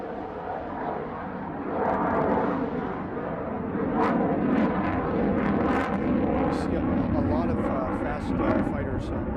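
A Boeing fighter jet rolling and pulling hard through maneuvers at the 2016 Farnborough Airshow, a loud, sustained engine roar that swells and holds, with a commentator talking over it.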